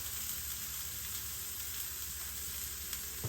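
Carrot, capsicum, curry leaves and asafoetida sizzle in a hot pan, a steady, even hiss of frying that runs unbroken throughout, close and alone.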